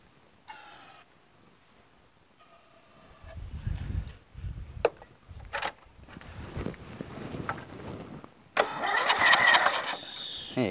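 A Toro Wheel Horse 1238XL lawn tractor with a Briggs flathead engine, its carburetor clogged by a mouse nest, cranks in several short bursts, then catches and runs loudly up close near the end.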